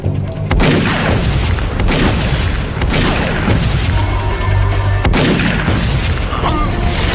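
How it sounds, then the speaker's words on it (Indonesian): A film battle in a village forest, with heavy booming gunfire and explosions in close, loud bursts, dense and overlapping throughout. "langsung menyerang Beckett dan Kul dengan sengit, hingga terjadi pertempuran kecil di hutan desa tersebut"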